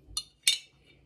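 A metal teaspoon clinks twice against a container while scooping dairy-free Greek yogurt, two bright separate taps in a quiet room with no voices.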